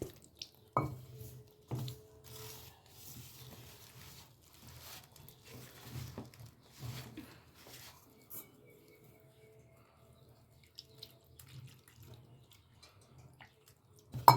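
A spoon stirs banana bajji batter in a bowl while water is added a little at a time, giving soft, scattered clinks and wet patters in a quiet kitchen.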